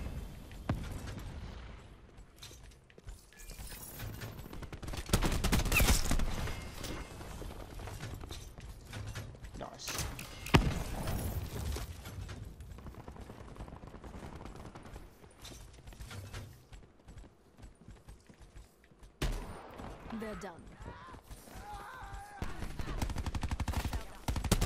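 Rapid gunfire from Call of Duty Black Ops 4 multiplayer on the Gridlock map, bursts of shots and mechanical clatter rising and falling across a busy, dense game soundscape with occasional louder blasts.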